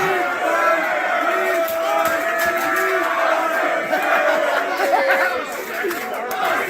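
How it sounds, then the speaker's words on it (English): A packed crowd roars with dense, continuous shouting and cheering, loud and close, with overlapping voices and chatter that stay at a steady level from start to finish. "Yeah, Cumia, you have a full crowd."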